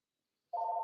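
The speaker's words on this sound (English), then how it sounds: "Sorry, guys, phone's ringing." A phone ringtone starts abruptly as a steady electronic tone, heard once, clear but at modest level against otherwise near silence.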